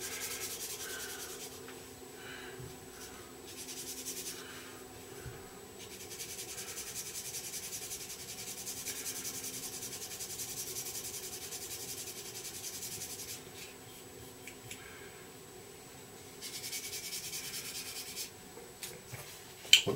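Micro mesh rubs back and forth across the underside of a plastic model kit radome in soft, close strokes, the quiet sanding stopping and starting in short bursts.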